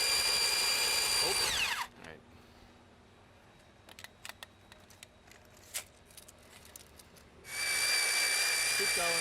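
A power drill whirs loudly at high speed boring a hole, stops for a quiet stretch broken by a few clicks and knocks, then spins up again for another hole.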